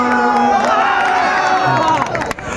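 A mushaira crowd at an All India Mushaira cheers and shouts loudly and steadily, with a singer's voice and music running over the noise.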